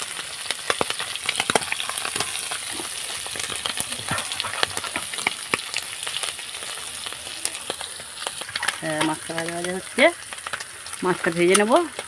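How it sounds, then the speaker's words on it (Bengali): Amudi fish frying in hot oil for a Bengali fish curry, a close continuous crackling sizzle with occasional pops, joined near the end by a brief voice over the frying. "এটা মাছটাকে ভেজে নিচ্ছি এখন"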